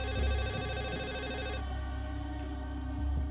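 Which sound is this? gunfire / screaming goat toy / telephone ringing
telephone ringing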